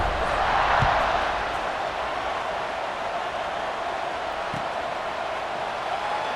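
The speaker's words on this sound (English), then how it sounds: "this crowd is buzzing after that last score" A stadium crowd in the College Football 26 video game buzzes after a touchdown, a broad steady roar that swells briefly near the start before settling.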